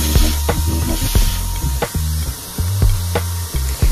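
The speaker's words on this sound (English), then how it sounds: "This sprayer is actually really detailed, and I can get really close to specific areas." A paint sprayer coating a vintage armoire: loud, continuous hissing spray with a rhythmic motor pulse, alone and up close.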